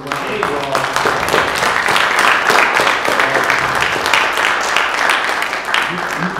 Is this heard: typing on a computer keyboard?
no